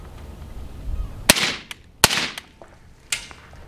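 Three suppressed supersonic rifle shots through an Odin Works Enduro suppressor ring out at uneven intervals, each a loud, sharp crack with a short decaying tail, the last one a bit softer, over faint outdoor background.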